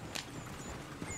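Horse hooves clop faintly at a slow walk in Red Dead Redemption 2, a couple of soft distinct hoof strikes over a steady low background hum, with no one talking.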